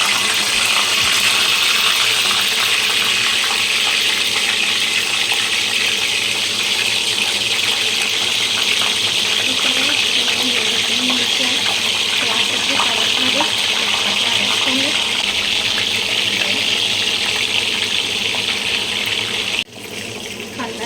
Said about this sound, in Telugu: బాగా వేడెక్కింది కదా, మనం నెమ్మదిగా వంకాయలు వేసేద్దాం.